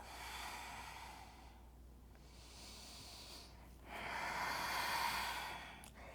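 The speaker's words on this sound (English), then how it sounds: "Couple more breaths." Slow, deep breathing during a yoga class: soft, airy inhales and exhales, close and faint, in a quiet room with no talk.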